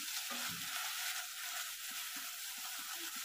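Chili-garlic paste fries in a pan for a Kathiyawadi spinach and potato curry, giving a quiet, steady sizzle with soft scraping stirs of a spoon, close by and with no talking.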